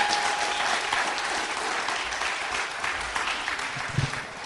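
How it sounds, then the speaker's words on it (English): Loud, continuous applause from a large audience at a literature event, many hands clapping together for several seconds without pause. "Let me hear yourself giving yourselves a very big round of applause"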